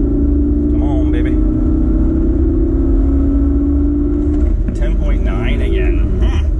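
A car engine accelerates in a 0 to 60 test run after a spark plug change, a loud close rising drone from inside the cabin with a brief tire spin. A voice speaks over it.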